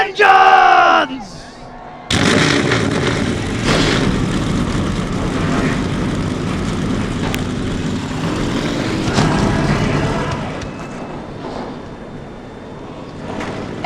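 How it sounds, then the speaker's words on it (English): Engines of NASCAR Craftsman Truck Series race trucks fire up together at Pocono Raceway, a loud sustained roar that starts abruptly after a brief announcement and holds steady over crowd noise. "Engines are fired."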